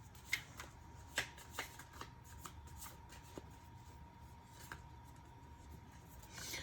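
Tarot cards being shuffled close up, soft riffling and sliding with a series of distinct slaps and taps spread across the quiet background.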